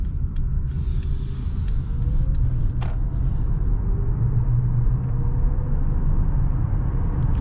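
Mercedes EQA 250 electric car on a test drive, a steady low road and tire rumble from inside the cabin with a faint motor whine, continuous and moderate, no talking.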